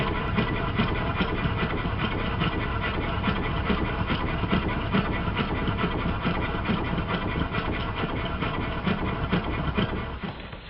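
A triple expansion model steam engine built by Ronnie Mall runs steadily, giving a dense, continuous mechanical chugging with fast, even beats, loud and close with no talk.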